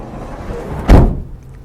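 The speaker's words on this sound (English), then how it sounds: "This is a heavy door. You have to kind of pull out" A heavy sliding door on a Nissan NV 3500 or Ford Transit 350 passenger van is pulled out and slammed shut, giving one loud, deep thud with a short rumbling decay over quiet background noise.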